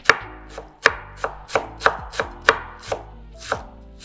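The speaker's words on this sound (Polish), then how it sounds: "Siekam drobniutko." A knife chopping dill finely on a board: about eleven sharp, evenly spaced knocks in a steady rhythm, close and clear with no talk.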